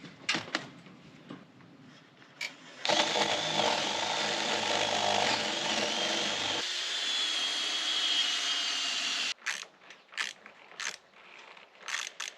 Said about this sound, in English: Okay, drill.